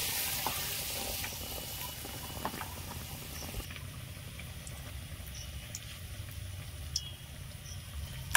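Raw mango and potato chops in batter sizzle in hot oil, a soft continuous frying crackle with scattered pops that quiets somewhat partway through, heard alone without talk.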